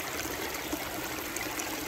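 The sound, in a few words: water trickling over small river rock weir of waterfall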